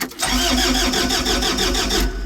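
A cold forklift engine cranks and catches, settling into a loud, steady mid-pitched running rumble close by before the sound cuts off.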